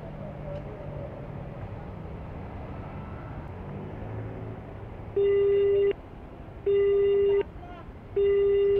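A phone call rings out with repeated electronic ring tones in a steady on-off pattern, heard after a stretch of road and traffic noise from a motorcycle taxi rider's outdoor setting.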